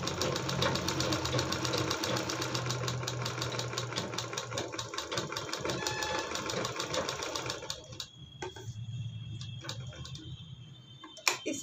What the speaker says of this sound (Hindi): अब ये बिल्कुल किनारे से सिलाई लगा देते हैं, इसके बिल्कुल किनारे से।